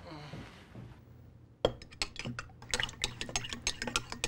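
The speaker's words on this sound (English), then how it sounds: "I could use this to stir my tea!" A PCB ruler stirs a cup of tea, after a quiet start, with a quick run of light clinks and taps against the cup, close and fairly faint.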